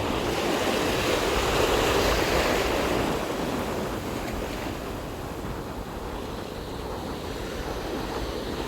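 Big ocean waves breaking and surging at high tide on a fishing trip, a loud continuous wash of surf with wind buffeting the microphone, swelling strongest in the first few seconds and then settling to a steady roar.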